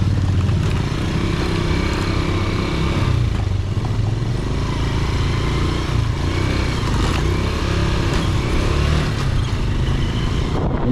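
A motorcycle rides a rough, muddy road near Montalban, Rizal, its engine droning steadily and loudly close by for the whole stretch, with continuous rumble and rattling from the uneven surface.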